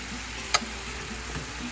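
Shrimp with Cajun spice sizzle in a hot pan as they are turned over, a steady close frying hiss with one sharp click from the flip and a fainter tap after.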